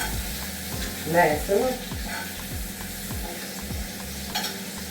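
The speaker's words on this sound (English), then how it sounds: "So right now, I make that go on sauteing." Sausage sautés in a hot pan for Jamaican-style cooking, a steady sizzle broken by several rhythmic stirring scrapes, with a voice speaking briefly over it.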